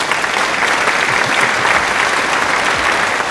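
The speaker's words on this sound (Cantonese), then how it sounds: "咁俾掌聲啊師兄先" Applause from a small audience at a watch shop after a customer buys three Tudor watches, steady dense clapping, loud and continuous throughout, with no talking over it.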